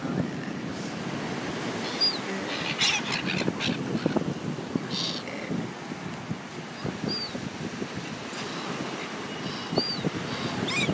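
Seagulls call in short, sharp cries scattered over steady wind rumble and microphone buffeting outdoors, the birds flying close by against a strong wind.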